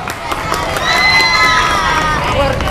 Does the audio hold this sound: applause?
yes